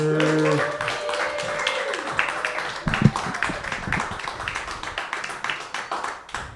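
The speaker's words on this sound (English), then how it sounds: "I love applause." An audience at a live open-mic storytelling night breaks into sustained applause for the host, dense crisp clapping throughout with a few cheers and murmuring voices.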